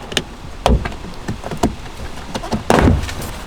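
Several sharp plastic clicks and pops as a car door panel is pried loose, with a few scraping knocks in between, close and fairly loud.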